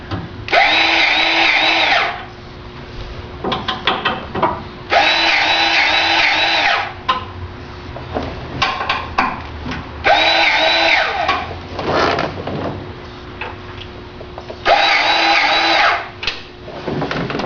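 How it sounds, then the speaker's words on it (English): An electric Lincoln grease gun runs in four loud, whirring bursts of about two seconds each, separated by quieter pauses filled with clicks and handling noise, during a truck oil change; no one talks. "got myself a Lincoln grease gun, electric, way nicer than pumping all the time"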